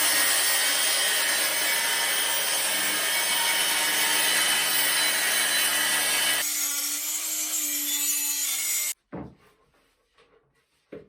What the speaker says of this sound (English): I'm going to be using my regular saw with a piece of wood bolted down